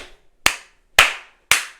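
Three loud, crisp hand claps, evenly spaced about half a second apart, close by with silence between them.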